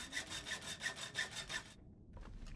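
Rhythmic back-and-forth strokes of a hand saw cutting wood in the survival game The Long Dark, about nine quick, even strokes, then a brief silence and fainter scraping.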